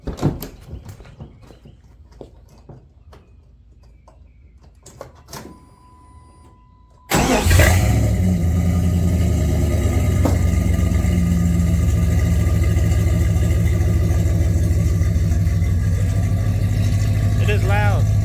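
A 1998 Jeep Grand Cherokee 5.9 Limited with a newly installed exhaust, heard after a few quiet clicks and knocks as the engine cranks and fires, then settles into a loud, deep, steady idle.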